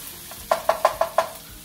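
Vegetables sauté in a pan under a soft background sizzle, with five sharp, evenly spaced clacks as they are stirred and moved around.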